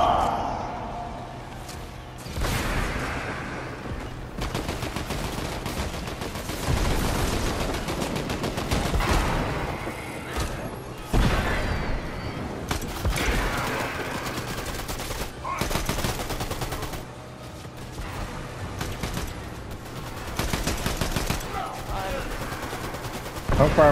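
Gunfire in Fortnite, a trio battle royale match, with repeated bursts of shots, some near and loud, others scattered, running through most of the stretch under players talking.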